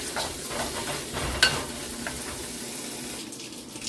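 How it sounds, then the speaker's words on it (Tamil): Chopped onions sizzle in a pan for a vegetarian curry while a spoon stirs them, with a steady frying hiss and a sharp scrape near the middle, close by and with no talking. "இந்த வெங்காயம் நல்லா வதங்கட்டும்."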